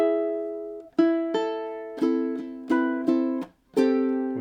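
Ukulele strumming a passage, clear close chords struck in a steady pattern of sustained ringing strums with short gaps, played alone without talk.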